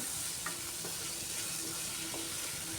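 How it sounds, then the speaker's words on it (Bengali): Chopped tomato goes into chicken cooking in a pan, giving a continuous close sizzle broken by a few soft scraping stirs at irregular moments. "এখন আমি দিচ্ছি কুচিয়ে রাখা টমেটো"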